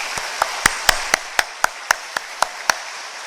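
A church congregation answers a pastor's call to give thanks to God by clapping hard, with eleven loud, evenly spaced claps landing together in a steady rhythm and no talk over them.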